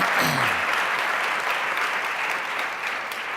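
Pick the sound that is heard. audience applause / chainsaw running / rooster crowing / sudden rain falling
audience applause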